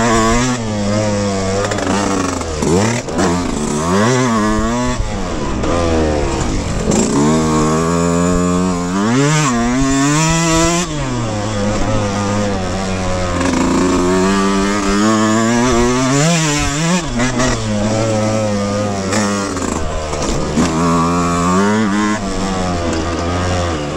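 Yamaha YZ125X two-stroke dirt bike on a high-desert motocross practice track, engine loud and close throughout, pitch swooping up and down as the throttle is held open over a jump and revs rise and fall.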